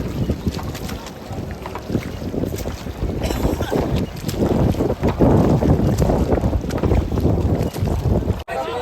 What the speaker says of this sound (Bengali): বোট আমাদের ছাড়লো হচ্ছে এখানে ছাড়লো